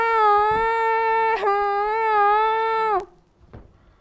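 Cartoon crying in a forest, a single sustained high wailing sob lasting about three seconds with a brief catch midway, close and loud, then cutting off into quiet.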